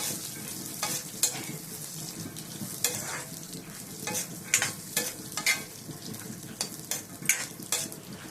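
Ingredients for a Nellore-style peanut pachadi fry in a pan while being stirred, giving a steady close sizzle broken by repeated scraping strokes of a spoon, with no one talking.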